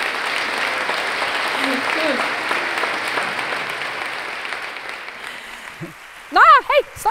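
Audience applause fills a conference session, a steady wash of clapping that runs for most of the stretch and then thins out, with a few voices speaking briefly near the end.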